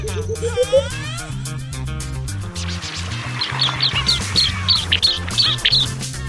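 Birds call around aquaculture ponds in Far North Queensland, with a run of quick, repeated chirps standing out over a steady musical backdrop.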